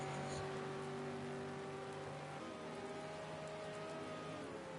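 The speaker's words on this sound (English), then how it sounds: "you can literally see the rain moving sideways on the screen. Such is the extent of this rain." Heavy rain in the ARC Supercars racing game, a dense steady hiss over a droning race car engine with shifting tones, loud and continuous with no voices.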